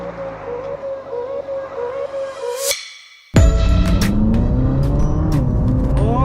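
A Ferrari 458 Spider with a 4.5-litre V8, heard from the passenger seat, revs loudly, cuts out for a moment, then roars back hard under acceleration with a strong low rumble.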